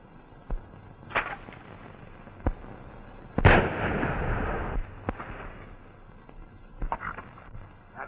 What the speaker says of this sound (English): That was a shot, wasn't it?